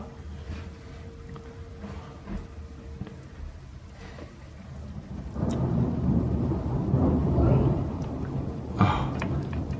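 Thunder from a nasty thunderstorm rolls in as a deep, swelling rumble midway through, over steady rain and gusting wind.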